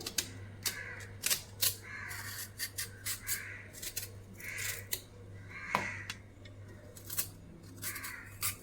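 Raw plantains being peeled with a knife, giving a series of short scraping strokes, some sharp and close, spaced irregularly over a steady low background hum.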